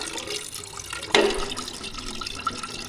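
Water splashing and trickling as it drains out of a Model T pickup transmission, with a sharp louder gush near the middle and steady dripping and spattering throughout.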